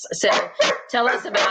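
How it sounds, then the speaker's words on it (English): Several dogs barking in the background, near and fairly loud, in short bursts under a woman's speech. "y'all can hear my dogs barking in the background"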